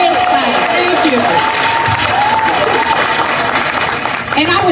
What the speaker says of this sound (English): give yourselves a round of applause for continuing this fight